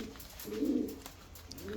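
Fancy exhibition pigeons at a farm in Natore give one soft, low, rounded coo that swells and fades, with faint background noise and no talking.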